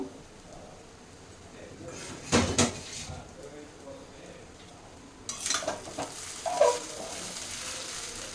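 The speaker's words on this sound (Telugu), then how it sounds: "ఇది ఇప్పుడు ఇక్కడ మిక్స్ చేసుకుందాం." Sabudana khichdi is stirred in a pan, with soft scraping and a couple of louder spoon-and-pan clatters over a quiet sizzle, and talk in the background.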